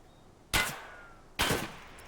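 Two sharp, loud gunshots about a second apart, each with a short reverberant tail, fired in the video game Escape From Tarkov.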